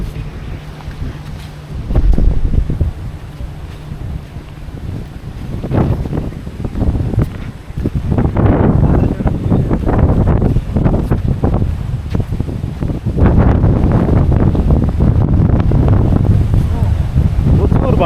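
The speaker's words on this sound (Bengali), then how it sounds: "প্রচুর বাতাস।" Strong wind during a rainstorm in the Maldives roars and buffets the microphone in loud, continuous gusts that swell and surge for the whole stretch, with a low rumbling undertone.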